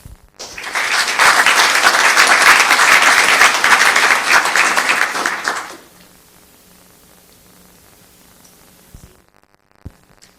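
Council-chamber audience in Los Gatos claps in a brisk, loud burst lasting about five seconds, then the room falls to quiet background hum with a faint knock near the end.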